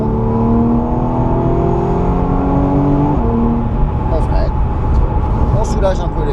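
A car accelerates at full throttle around the Le Mans race track, its engine note climbing steadily in pitch and staying loud and close throughout.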